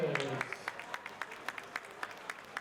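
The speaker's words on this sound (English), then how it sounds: "Ladies and gentlemen, we please have a big round of applause for both of our fighters" Sparse, quiet clapping from a fight crowd for both fighters after the bout, a few distinct claps trailing off right after a voice at the start.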